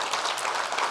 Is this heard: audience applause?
yes